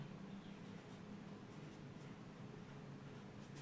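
A marker or chalk writes an example sentence on a board in a grammar lesson, giving faint, soft scratchy strokes over a steady low room hiss.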